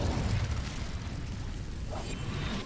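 Incendio fire spell cast in the game Hogwarts Legacy, a loud whooshing burst of flame with a dense rumbling roar that holds steady throughout, no talking over it.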